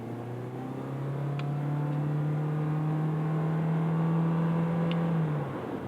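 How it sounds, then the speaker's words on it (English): 2024 Toyota Corolla Cross Hybrid S accelerating, a steady droning engine note that climbs slowly in pitch over several seconds, heard from inside the cabin, then eases off near the end; no voices. "a little bit of engine noise there for some of you gearheads"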